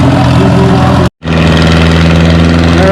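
A loud, deep pulling tractor engine roars steadily up close at a tractor pull near Othello, Washington, with a throbbing rumble, briefly cutting out to silence before roaring again.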